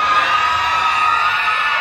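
A concert crowd screams and cheers in a loud, continuous wall of high-pitched shrieks, steady and unbroken throughout with no talking.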